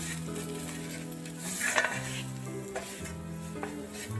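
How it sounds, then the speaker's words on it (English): Turmeric and spices get stirred into frying onion in a pan, a quiet sizzle with a few scraping spoon strokes, set under steady background music and no talk. "Mix that all in with the onion."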